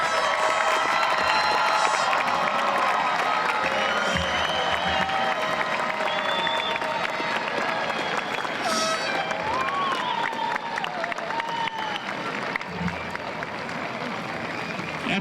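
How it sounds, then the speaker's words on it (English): A large outdoor commencement crowd applauds and cheers the class of 2026, with sustained clapping beneath whoops, shouts and high-pitched cheers, loud and continuous throughout. "let's give one big round of applause to the class of 2026"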